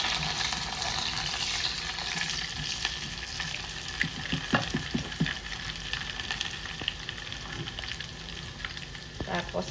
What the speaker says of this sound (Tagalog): So, lalagay na natin yung ating bawang. Sunod na natin yung sibuyas.